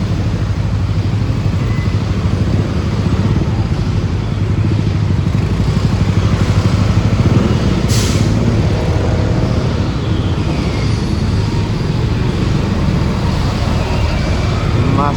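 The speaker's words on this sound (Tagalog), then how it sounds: "Grabe na naman ang traffic dito sa Monumento." Heavy road traffic at Monumento at the end of EDSA, with motorcycles and trucks, a loud constant roar of engines and tyres close by, rumbling without a break for the whole stretch.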